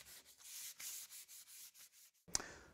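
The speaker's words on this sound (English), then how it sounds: "When rubbing down, work your way from the top to the bottom, following the direction of the grain." Flexible sandpaper rubbing down wood along the grain before painting, close and quiet, in a rhythmic series of about a dozen short back-and-forth strokes ending with a sharper scrape.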